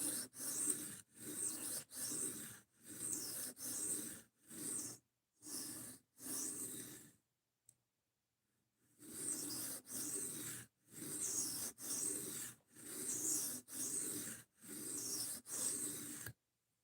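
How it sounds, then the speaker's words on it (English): An S30V steel knife blade is drawn across a sharpening stone in steady, evenly spaced rasping strokes, each about half a second long, with one short pause partway through. "Surprisingly, this is the least trouble I've had sharpening S30V."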